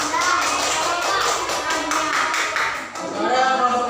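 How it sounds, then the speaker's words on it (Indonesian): Elementary school pupils clap together for their classmates in a classroom, with a dense, rhythmic run of close, lively hand claps mixed with children's voices. "kasih tepuk tangan buat kawannya"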